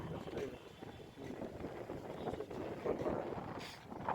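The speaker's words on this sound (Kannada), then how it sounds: "ಜೋರು ಗಾಳಿ ಬೀಸ್ತಾ ಇದೆ ಈ ಕಡೆ." Strong wind blowing outdoors near St. Philomena's Cathedral in Mysore, a steady roaring buffet on the microphone with uneven gusts throughout, fairly loud and unbroken.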